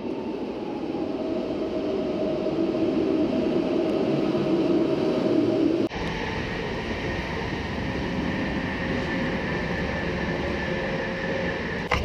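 A train rumbles steadily into a station platform in Katowice, Poland, a loud continuous roar and mechanical hum with no voices, its tone shifting abruptly about halfway through.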